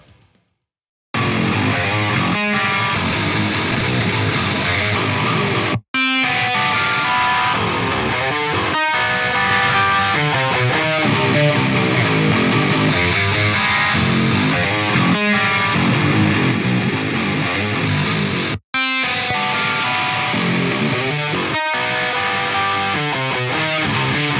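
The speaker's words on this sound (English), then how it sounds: "Here's the same riff with 1 head comparing the 4 cabinets." Distorted electric guitar riff played through a single amp head, repeated four times in a row to compare four speaker cabinets, loud and dense with short silent breaks between takes and no talking.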